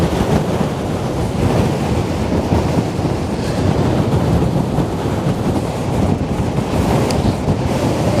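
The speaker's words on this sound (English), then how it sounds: "This is crazy, this wind." Strong wind on the Westerschelde shore in the Netherlands, roaring loud and steady across the microphone as a constant low rumble with no let-up.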